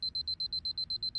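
A security alarm keypad beside a door beeps in a fast, even series of about ten high, piercing tones, close and loud.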